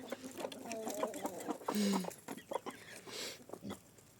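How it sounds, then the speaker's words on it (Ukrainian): Hens cluck in short bursts close by, with a few sharper squawks mixed in, busy and irregular throughout. "Петро, хвати курей ганять."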